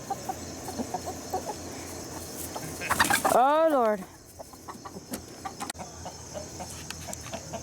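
Chickens in a backyard flock squawk and cluck in agitation as a rooster is introduced, with a loud burst of rising, wavering cries in the middle over steady background clucking, and someone speaking briefly.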